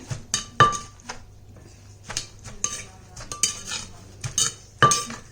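Ginger som tam pounded in a mortar: a series of sharp, close knocks and clatters at an uneven beat, with small clinking touches between strikes and quiet gaps.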